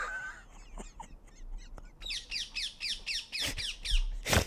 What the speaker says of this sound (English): Even the bird is laughing with me.